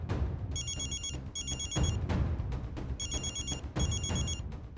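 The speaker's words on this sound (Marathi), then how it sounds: "सूरज फोन लावतो मी मालकाला." A telephone rings in repeated electronic double bursts, two pairs of trilling rings separated by a pause, fairly clear over low background noise with no speech.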